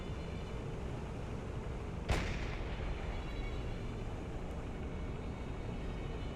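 A single deck gun shot in the Silent Hunter 4 submarine game lands as one sharp, loud blast against a ship, its boom decaying over a steady bed of sea and engine rumble.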